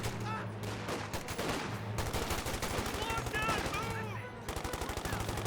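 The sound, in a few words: gunfire in Company of Heroes 2 video game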